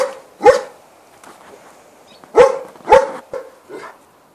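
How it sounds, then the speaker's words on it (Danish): A five-year-old male Labrador barks close by, giving several loud, separate woofs spaced irregularly, with quieter yips and whimpers between them. "Han er en labrador."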